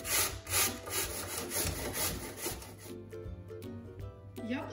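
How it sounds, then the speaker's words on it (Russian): Peeled apples are grated on a coarse grater for an apple pie, making quiet, rhythmic scraping strokes in quick succession, close to the mic, before the rasping pauses. "Почищенные яблоки потрем на крупной терке."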